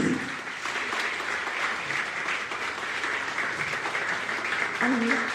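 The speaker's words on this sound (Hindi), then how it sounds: "एक आवाज होता तालियां प्लीज।" An audience at an acid attack awareness session applauds steadily, a dense wash of clapping held for several seconds at moderate distance.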